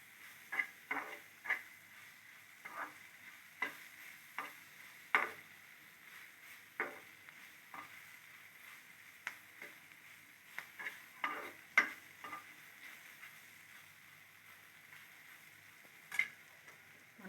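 Curry leaves fry quietly in a pan, a faint steady sizzle broken by scattered soft ticks and spoon taps.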